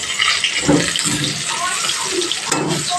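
Pointed gourd (potol) pieces frying in hot oil in a pan, a steady bright sizzle and hiss throughout with a few soft pops and clatters as pieces are added.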